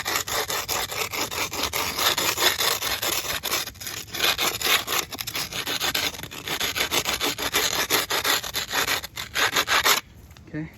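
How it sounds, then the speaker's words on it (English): A piece of wood scraped steadily back and forth over a rock porch surface, producing continuous loud gritty rubbing strokes close up that stop abruptly near the end. "I'm just taking the wood and I'm scraping it right here"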